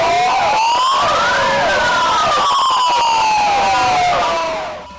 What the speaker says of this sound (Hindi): सायरन मार दियां ये 12 एंबूलेंसा